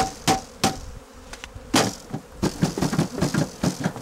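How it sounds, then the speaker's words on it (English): Honeybees shaken down a funnel into a collection box while a varroa mite strip is prepared, giving sharp knocks and thuds followed by a dense, rustling buzz of many bees close by. "Now we can pour the balance of the bees in."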